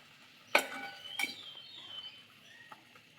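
A spoon clinks sharply against a metal pot of water with drumstick leaves twice, followed by quieter scraping and faint stirring.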